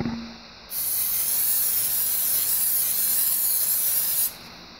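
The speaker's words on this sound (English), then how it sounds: "This is a canola spray, no calories." A continuous aerosol canola cooking spray hisses loudly for about three and a half seconds, starting and stopping abruptly, with no talking.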